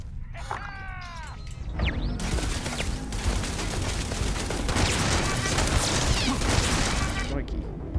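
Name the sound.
turrets firing, from the video game Starfield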